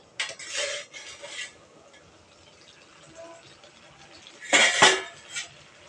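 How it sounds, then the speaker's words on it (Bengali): A metal lid comes off a cooking pot of fish-head and Malabar spinach curry with a bright clank, after earlier lighter clinks of utensils against the pot, separated by quiet pauses. "এবার ঢাকনাটা নামিয়ে নেব"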